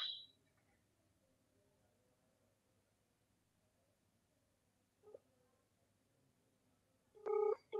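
Faint telephone line sounds: a brief tone at the start, then short dialing beeps and a louder ringing tone near the end over quiet hiss.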